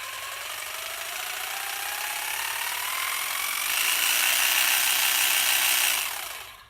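Husqvarna 536LiHE3 battery hedge trimmer running close by at low throttle: a steady buzzing whir whose pitch climbs gradually and brightens partway through, then cuts off at the end, with no talk.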